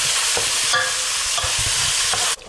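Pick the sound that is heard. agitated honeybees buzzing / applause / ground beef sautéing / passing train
ground beef sautéing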